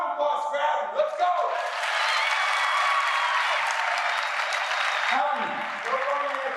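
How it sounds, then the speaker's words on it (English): A high school assembly crowd breaks into sustained applause for a student, dense clapping mixed with cheers and whoops that swells and holds for several seconds. "Round of applause for Adam."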